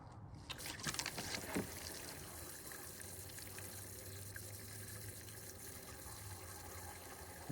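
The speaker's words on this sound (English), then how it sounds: "fill the system with coolant." Coolant flows steadily through a hose into a vehicle cooling system as a valve opens. A continuous, close, low rushing trickle begins after a brief opening clatter and holds evenly throughout.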